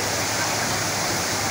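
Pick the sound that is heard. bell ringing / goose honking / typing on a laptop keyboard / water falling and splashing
water falling and splashing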